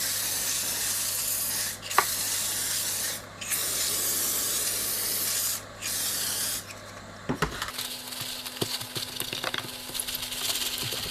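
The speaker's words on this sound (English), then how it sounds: "Just spray on some label remover to get rid of this residue." Label remover sprays onto a plastic lid in a series of close, loud hissing bursts with short gaps. Quieter rubbing and light clattering follow.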